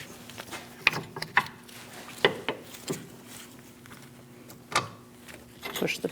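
A ratchet tightens the rear brake caliper pins on a 2000-2006 Mini Cooper, with scattered clicks and metallic clinks in short bursts, close by over a low steady hum.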